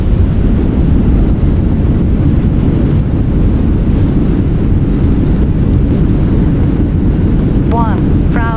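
An Airbus A321 in Microsoft Flight Simulator 2020 roaring with engines in reverse thrust on the landing rollout, a loud steady rumble with broadband wind-like noise that holds for several seconds, with brief chirps near the end.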